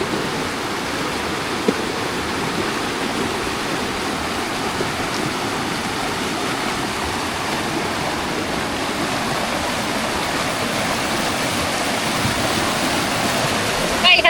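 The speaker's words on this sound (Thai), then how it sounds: "น้ำก็กระเด็นแรงเหมือนกันนะน้ำเย็นมาก" Cold waterfall water splashes hard in a steady, loud, full rushing roar that holds unbroken from start to finish.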